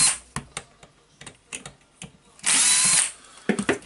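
A power screwdriver backs PH2 screws out of the cover on a Hitachi H45MRY demolition hammer, giving one loud, steady half-second whir amid scattered close clicks and handling taps.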